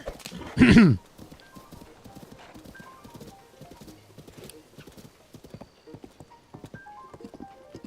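Horse hooves clip-clop in Zelda: Tears of the Kingdom, a steady trotting patter that runs under the game's faint music after a brief loud whinny near the start.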